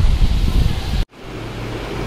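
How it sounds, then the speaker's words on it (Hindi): Steady outdoor wind roars loudly against the microphone, briefly cutting out near the middle before a softer gusting rush resumes. "ऐसे हवा चल रही है तो यहाँ से पता लग सकता"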